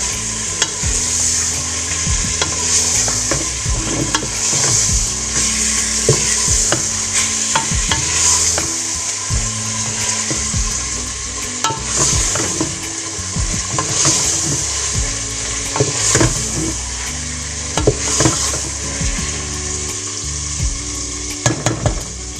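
Chicken with tomatoes is stir-fried in a pot with steady oily sizzling while a utensil scrapes and clacks against the metal in an irregular rhythm throughout.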